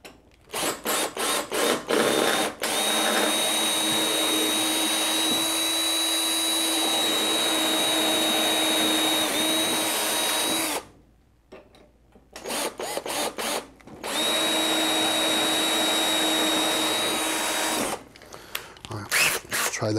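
A power drill drives a middle-sized bit to grind open the lock of a toy vending machine, a loud whining metal grind in long sustained bursts broken by short pauses and a few brief stops and restarts.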